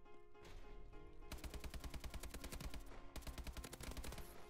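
Automatic gunfire in the video game Call of Duty: Advanced Warfare, a loud rapid burst of shots in quick even rhythm that pauses briefly and then resumes with another sustained burst, close and without talking.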